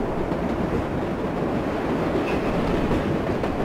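An AI-driven subway train on route 46 to Lowery in the game World of Subways 4 rolls along at rush hour with a steady, loud, continuous rumble and faint clickety-clack, close up and without talk.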